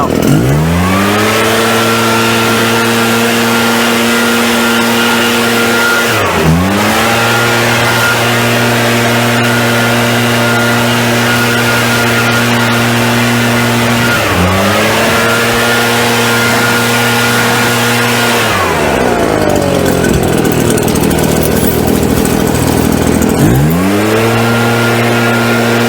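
A blower clearing grass clippings out of a lawn mower revs loudly in repeated long bursts, its engine pitch climbing and dropping back between blasts with no voices.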